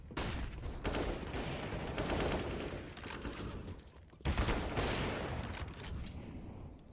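Gunfire in Counter-Strike during a professional match, heard as dense, continuous rapid shots and bursts that fill the clip, briefly dropping away near the middle before resuming at full loudness.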